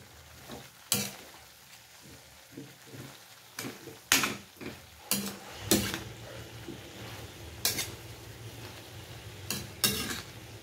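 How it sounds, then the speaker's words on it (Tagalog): Mixed vegetables stirred in a pan, a quiet background sizzle broken by about ten sharp, irregularly spaced scrapes and clinks of a utensil against the pan. "Tapos haluin lang siya."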